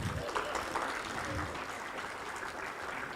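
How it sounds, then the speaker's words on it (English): Students applauding at a university induction event in a large hall, a dense continuous wash of clapping that holds steady throughout, with faint voices mixed in. "Can we please clap for him?"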